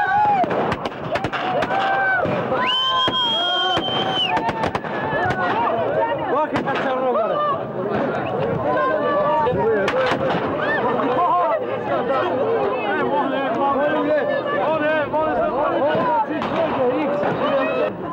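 Firecrackers go off in sharp bangs and crackling pops repeatedly amid a lively crowd in Kosovo, with people chattering and shouting throughout.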